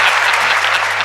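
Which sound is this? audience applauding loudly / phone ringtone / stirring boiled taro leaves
audience applauding loudly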